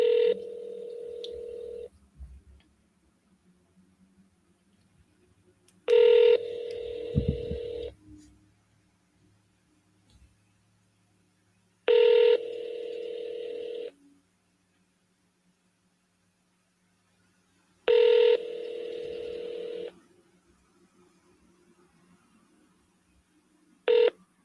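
Automated phone call with short bursts of keypad tones repeating every six seconds or so, each a bright two-part beep lasting about two seconds, separated by quiet gaps with a faint low hum.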